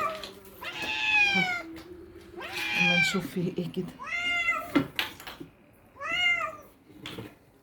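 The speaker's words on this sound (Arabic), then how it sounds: "دي قطتي اهي جعانين." A hungry cat meows repeatedly up close, four or five drawn-out plaintive calls spaced a second or two apart, with someone speaking briefly between them.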